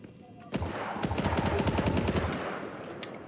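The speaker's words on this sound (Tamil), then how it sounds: "ஆமா, மிஷின் கன்னா விளையாடுப்பா." A machine gun fires in the video game World War 3, with rapid sharp bursts close up after a brief lead-in.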